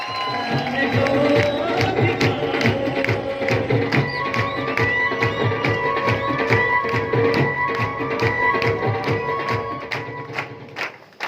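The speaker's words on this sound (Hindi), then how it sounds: "जोरदार तालियां दे सकते" An audience at a business success celebration claps together in a fast, rhythmic beat that keeps going for several seconds, with crowd noise mixed in, before it tapers off at the end.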